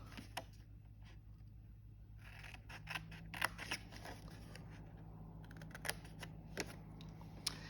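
Scissors cutting a corner off a scored paper rectangle while making a papercraft easel calendar, quiet close snips and small clicks in a sparse irregular rhythm against a faint hum.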